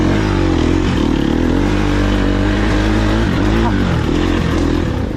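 Motorbike engine running steadily at a large motocross track, a loud close drone with shifting revs and continuous rumble throughout.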